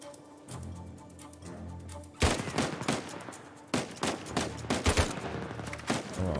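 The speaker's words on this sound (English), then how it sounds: "If it was single shot, this would actually be a really nice gun." Gunfire in the video game Uncharted: Legacy of Thieves, a quiet stretch giving way to sudden loud bursts of rapid shots and sharp cracks in clustered volleys, with brief gaps between them.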